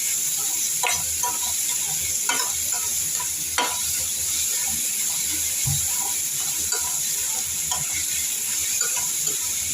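Onions sizzle steadily as they fry in a pan for an egg curry, while a spoon scrapes and stirs them in scattered strokes. The crackle is close and continuous, with no talking.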